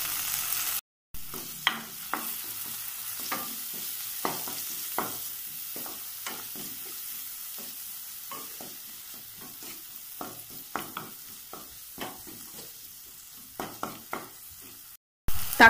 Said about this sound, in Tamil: தக்காளி எண்ணெயில் நல்லா வதங்கிருச்சு.